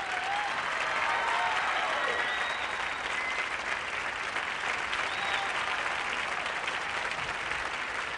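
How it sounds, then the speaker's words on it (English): An audience applauds dancers on a 1984 television show, sustained steady clapping from a crowd with some cheering, even and continuous throughout. "Let's have a real cheer for them."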